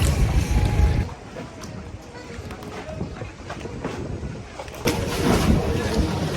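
A tour boat on a harbor cruise in Ayvalık, with an engine drone mixed with water and wind noise across the microphone, growing louder and rougher near the end.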